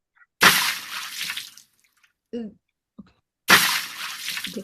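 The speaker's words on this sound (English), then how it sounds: "This is the sound of the pocket dropped in water, a simple sound from the libraries before oralization." Two loud splashes come from an object dropped into water, a sound-library sample, each followed by fading sloshes and a few small drips in the silence between.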